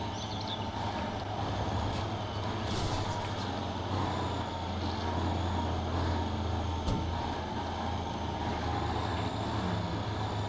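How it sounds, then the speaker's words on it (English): A heavy truck grinds across thick, rough gravel on a lumber company driveway in the Spin Tires off-road game, its engine drone steady and loud throughout, with rumbling low-end and scattered crunching. "This is the biggest, thickest gravel I've ever been in."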